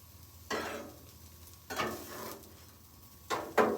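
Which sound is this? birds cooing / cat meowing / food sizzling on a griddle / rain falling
food sizzling on a griddle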